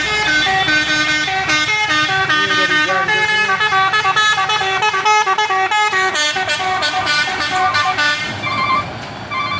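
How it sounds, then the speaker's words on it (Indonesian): A Puso trailer truck labours up the steep Bukit Kodok road, heard amid a loud, steady wall of repeated tonal horn blasts from surrounding vehicles, with engine rumble underneath. "Ini kita melihat satu unit truk trailer Puso ini pun kewalahan menanjak dan tertahan di tengah sana"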